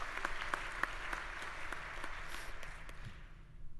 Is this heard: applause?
yes